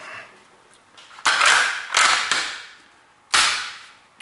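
Sharp metallic clacks of a firearm action being cycled and dry fired after cleaning, three or four loud distinct snaps spaced about a second apart with quiet mechanical rattles between.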